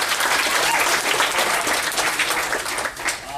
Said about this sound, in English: Please give yourself a round of applause.